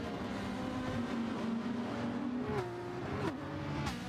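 Racing car engines in the Gran Turismo 7 video game, a sustained droning engine tone that holds steady and then shifts pitch with gear changes, moderately loud with no talking.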